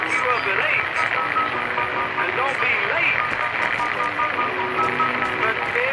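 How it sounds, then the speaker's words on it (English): Dense radio static in the video game Fallout New Vegas, crackling and hissing steadily throughout with garbled broadcast voices and faint music woven underneath. "the broadcast signal comes back, playing a mix of loud static, voices, and music over the radio"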